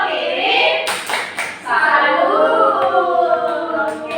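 Classroom of students doing a rhythmic 'tepuk salut' clap routine, with a burst of sharp claps followed by children chanting together, busy and close in a lively room.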